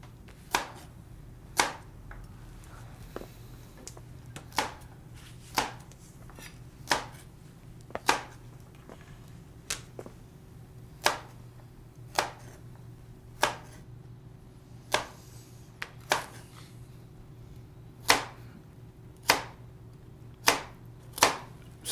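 A knife chops celery on a cutting board in slow, steady single strokes, each a crisp close thud, roughly one to two seconds apart, over a faint room hum with no talking.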